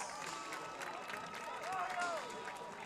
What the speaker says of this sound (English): Please give a round of applause for our sophomore class princess, Miss Brianna Villegas.